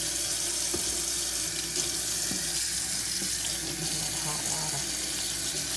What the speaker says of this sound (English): And I want to wash that greasiness off my hands.